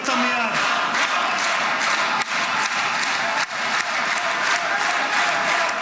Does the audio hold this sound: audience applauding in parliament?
yes